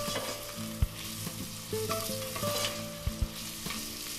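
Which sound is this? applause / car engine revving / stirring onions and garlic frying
stirring onions and garlic frying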